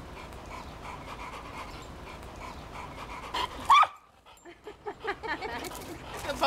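An American Bulldog and a Pitbull play together indoors, panting and giving a few short barks and whimpers, with a sharp bark near the middle and quiet voices in the background.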